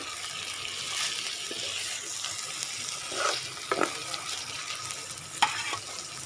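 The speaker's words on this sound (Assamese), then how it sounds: "এনেদৰে মই এতিয়া ভাজি থাকি মাংসখিনি প্ৰায় 5 মিনিটমান ভাজিলেই অৱশ্যে হৈ যাব" Broiler chicken meat fries in a pan over a wood fire with a continuous sizzle, broken by a few louder scrapes and stirring clatters.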